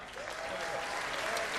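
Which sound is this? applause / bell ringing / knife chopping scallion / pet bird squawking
applause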